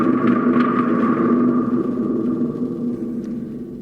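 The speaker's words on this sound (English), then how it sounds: "a special drum for us that's a thunder drum made out of a gourd" Thunder drum made from a gourd, played outdoors at a Fourth of July gathering: a long, low rumbling roar with a metallic ringing hum that slowly fades over a few seconds, close and fairly loud.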